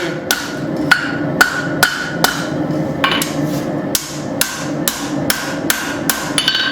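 Sharp metallic hammer blows ring out in a steady rhythm, about a dozen strikes on a hot steel knife blade being forged at close range, with no voices.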